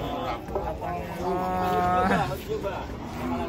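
A cow mooing at a roadside stall after coming down off a truck, a drawn-out low bellow with a rising pitch, heard amid crowd murmur and voices of people talking nearby.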